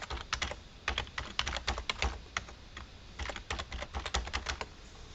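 Quick bursts of typing on a computer keyboard while text goes into dialog input fields, with clusters of close, crisp key clicks broken by short pauses.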